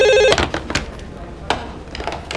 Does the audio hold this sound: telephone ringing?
yes